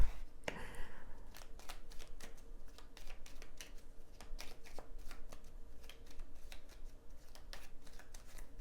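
Tarot cards being shuffled by hand, close and fairly quiet, a steady patter of light flicks and riffles with small gaps between bursts.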